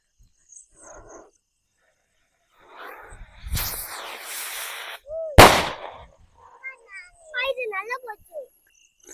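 A naattu paanai firecracker from a Sivakasi batch fizzes and rushes up, then bursts with one sharp, loud bang close by, followed by voices talking.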